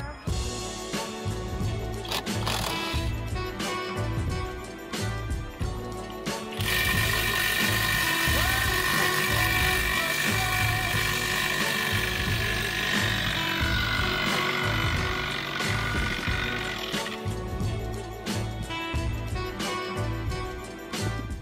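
A cordless Chinese impact wrench hammers and rattles in loud bursts during car repair, with a long continuous run of rapid mechanical impacts in the middle.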